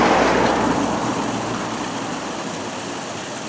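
A river in Ambleside flows under Bridge House and gives a broad, steady rush of water. It is fairly loud at first, then eases slightly, and no one speaks.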